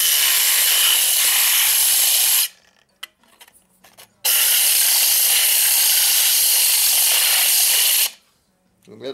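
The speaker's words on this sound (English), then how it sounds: "take the end of the grinder wheel and I just want to place it on the wheel as it's spinning" The end of an aluminum Bud Light bottle is held against a spinning grinder wheel to polish rough spots, making two long, loud abrasive grinding passes separated by a brief quiet pause.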